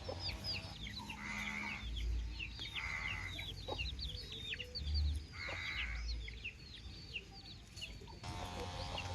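Chickens on a farm cluck and call repeatedly, with several overlapping birds at moderate distance and a rooster-like call among them, against a quiet outdoor background with no talking.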